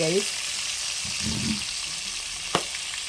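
Steady crackling sizzle of spices, including popping mustard seeds, frying in hot oil for a Kottayam-style fish curry, close by, with a brief stir and a sharp pop partway through.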